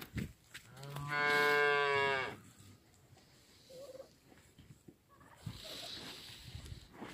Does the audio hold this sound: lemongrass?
no